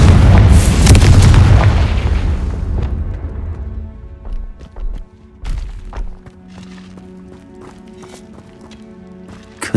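Confringo spell blast in Hogwarts Legacy: a heavy booming explosion that rumbles and fades, followed by scattered thuds, clatter and impacts.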